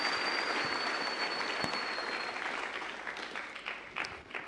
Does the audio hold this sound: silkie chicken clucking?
no